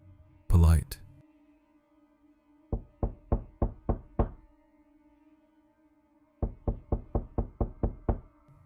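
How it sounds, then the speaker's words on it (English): Slow, steady knocking on a school door during a lockdown: a run of five crisp raps, a pause, then seven more, close and even-paced, after a single low thud. "Then came a slow, steady knock."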